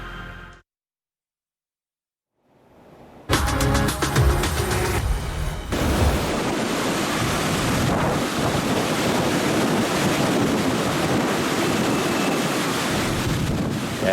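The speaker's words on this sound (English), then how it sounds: "Listen to the wind, water splashing up here, storm surge pushing into docks" Hurricane Delta's gale-force wind roars over the microphone while storm-surge water splashes and churns against docks, a loud, continuous buffeting rush after a brief silent gap.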